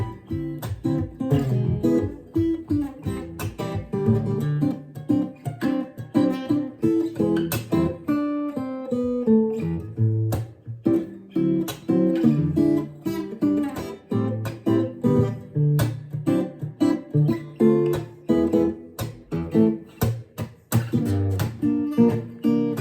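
Swing-style rhythm guitar strums the chords of a song in a steady, punchy chop, loud and close, played alone with no talking for over twenty seconds.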